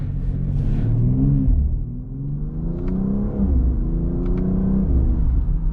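2022 BMW X3 M Competition accelerating hard from inside the cabin, engine note climbing through rising pulls with a brief dip between gears, loud and continuous with no talk.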